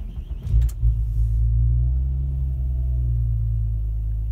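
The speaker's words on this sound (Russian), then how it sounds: "Отпускаю педаль газа, завожу автомобиль." A Nissan Maxima A34 engine cranks briefly and catches, then settles into a steady, close, low idle rumble.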